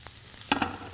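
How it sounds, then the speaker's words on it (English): Mushrooms land in a hot pan and sizzle sharply as the pan is shaken, giving a couple of quick bursts of frying and rattling over a low steady hiss. "In they go, around the outside. Just give the pan a little shuggle"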